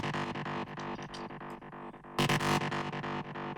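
A distorted, dense sustained sound with a Haas-style stereo delay set half dry, half wet, giving a hollow comb-filtered stereo tone. It pulses steadily and loudly throughout, with a brighter, harsher burst just past the midpoint.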